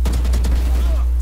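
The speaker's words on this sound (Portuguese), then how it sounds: "Dei tiro na cabeça." Rapid gunfire bursts in the tactical shooter video game Valorant played on Xbox console, several quick shots in a tight series over a loud low hum.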